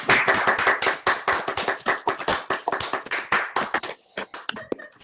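A small group clapping in a round of applause at an online graduation ceremony, close and uneven, individual claps distinct and thinning out toward the end.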